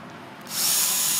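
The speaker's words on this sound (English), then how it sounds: "if I want to shoot it straight down, then I'll just drill one hole" A power drill bores a single hole through plastic irrigation pipe for a square-foot garden watering system, a steady high whine that starts suddenly halfway through and holds loud and close to the end.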